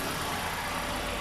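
Radiator fan of a Hyundai Eon running during engine warm-up, a steady, even whir blended with the low hum of the idling engine, quiet and continuous with no voices.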